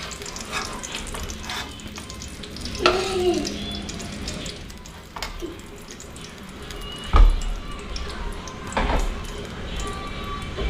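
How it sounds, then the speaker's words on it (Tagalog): Eggs fry in a pan with a loud, close, bubbling sizzle, broken by scraping stirs and a few sharp clinks of a utensil. "Pirituin naman natin itong itlog."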